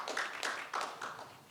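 Sparse audience clapping at a Night of Ideas panel on Gen Z and African realities: four or five distinct, fairly faint claps spaced irregularly, quieter toward the end.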